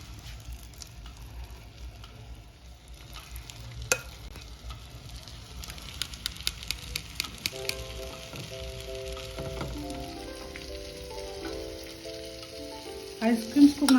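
Chicken meatballs shallow frying in oil in a pan give a steady crackling sizzle, with a few sharp utensil clicks and scraping near the end.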